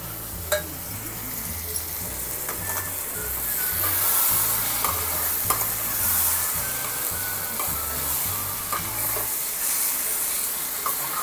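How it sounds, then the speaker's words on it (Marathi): Dried prawns sizzle in a hot pan while a utensil scrapes and stirs in a repeating rhythm, with occasional sharp clinks; no one speaks. "हे चांगलं मी आता हलवलं आहे"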